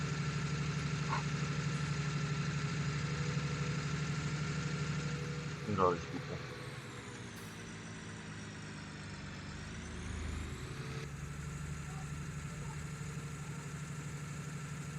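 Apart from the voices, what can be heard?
tractor trailer truck engine in a video game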